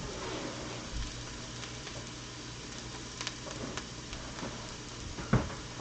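Chopped onions simmering in a pan for risotto, a soft continuous sizzle and crackle, close and quiet, with occasional clinks.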